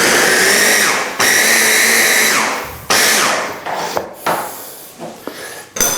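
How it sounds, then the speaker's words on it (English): Kitchen blender loudly churning a thick, dry Thai fish cake mixture with curry paste, motor whirring in long bursts that cut out and restart, with clunks and rattles between runs as the jar settles. "Give that a quick blend"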